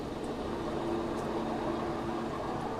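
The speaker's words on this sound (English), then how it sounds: "you'll hear the pump sound change as it starts pulling air" A vacuum pump running on a rotary evaporator shifts its note as it begins pulling air, giving a steady, close mechanical hum with a low droning tone and no talk.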